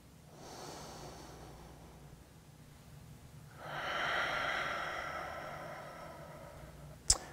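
A person breathes deeply during a stretching session, with a soft inhale followed by a longer, louder exhale through the nose and mouth, close and alone, ending in a brief click.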